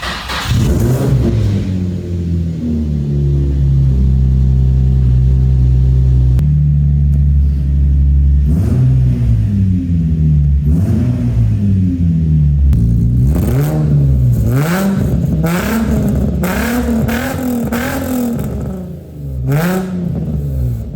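A Nissan 350Z's 3.5-liter V6 with sport exhaust starts after long disuse, idling with a deep, throaty rumble, then revs up and down several times, each rise loud and close with a growling exhaust.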